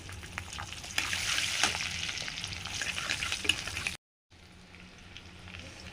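Garlic hitting hot oil with black cumin, cumin and dried chillies, a bright close sizzle that swells then cuts briefly and resumes slightly quieter.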